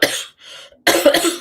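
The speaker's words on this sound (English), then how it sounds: "We'll give a little cough to get started." A person gives a couple of close, sharp coughs, a loud burst at the start, a softer throat sound, then a longer harsh cough fit at the end.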